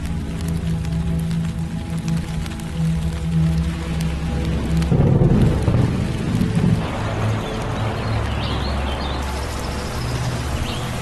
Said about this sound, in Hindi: क्या आप भी इस वर्षा को देख रहे होंगे?